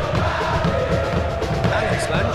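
A football stadium crowd roars in approval after a defensive play, a dense, steady wall of cheering with a commentator's voice speaking over it throughout.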